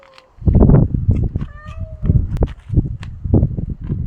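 A cat meowing in short, close calls, one drawn-out rising meow among bursts of rustling and footsteps outdoors.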